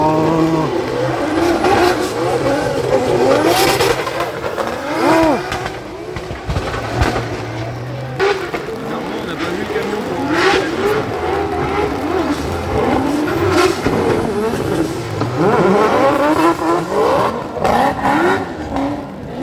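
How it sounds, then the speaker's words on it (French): Several V8-powered drift cars rev hard and squeal their tyres at a drift championship final in wet conditions, with loud continuous engine roar, passing cars and bursts of skidding, while people talk over the noise. "t'as beaucoup de caisses qui sont sur le V8 au drift"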